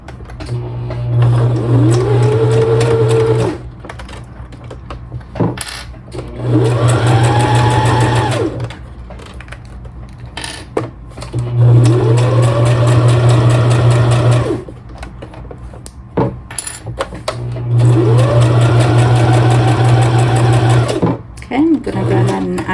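A sewing machine stitching a quilted fabric tag runs in four long bursts of steady whirring and buzzing, each rising in pitch as it speeds up, with pauses in between and close, clear sound.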